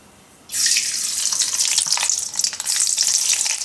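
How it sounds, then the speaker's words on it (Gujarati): Mustard seeds drop into hot oil and burst into a loud, bright sizzle that starts abruptly and crackles steadily for about three seconds, with no voices. "તેલ આપણું ગરમ થઈ ગયું છે તેલમાં આપણે નાખશું રાઈ"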